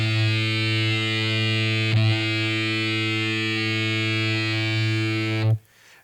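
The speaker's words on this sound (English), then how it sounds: "Here's a fifth string open A." Sustained open A fifth string on an electric guitar through fuzz distortion, a thick buzzing harmonic-rich tone held loud and steady for about five seconds, with a faint pick or hand noise near two seconds, then cut off abruptly.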